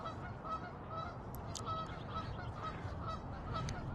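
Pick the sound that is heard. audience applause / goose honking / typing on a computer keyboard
goose honking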